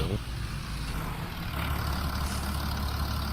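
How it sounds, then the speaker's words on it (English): A school bus, number 3821, with its diesel engine running makes a steady low rumble that stays close and constant throughout, with no talking. "Not gonna lie, I kinda like the 3821's engine."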